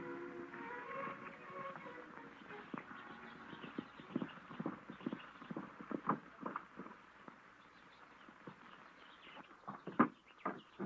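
Horses ridden at a 1936 Western ranch give off a steady series of hoof clip-clops, moderately close and fairly soft, with louder irregular knocks toward the end.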